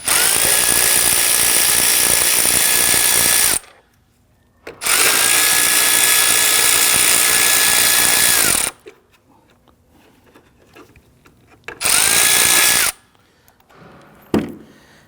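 A power tool whirs in three loud bursts, two long and one short, with quiet pauses between, as it loosens and removes two 8mm airbox bolts on a 2010-2019 Ford Taurus.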